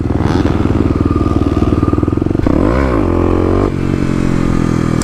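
A Kawasaki KLX250 dirt bike engine pulses loudly up close, then revs sharply and climbs in pitch during a second-gear wheelie attempt, with rattling and wind noise.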